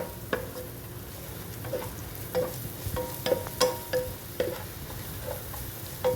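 Clams frying with black pepper and garam masala in a pan, a soft continuous sizzle under repeated spoon scrapes and taps from stirring, fairly quiet and close.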